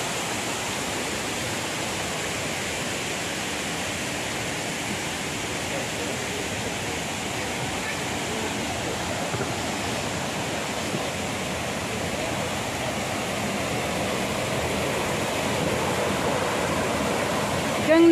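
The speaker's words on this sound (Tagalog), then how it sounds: "Ang beautiful yung fountain" Fountain water in Hong Kong Park splashes in a steady, even rush, a continuous broadband hiss from fairly near that holds at the same level throughout.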